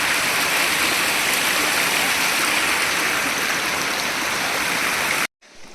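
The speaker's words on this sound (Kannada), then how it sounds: "ಇಲ್ಲೋಡ್ರಿ, ಹರಿಯೋ ನೀರು." A flowing stream outdoors, a loud, close, steady rush of running water that cuts off abruptly near the end.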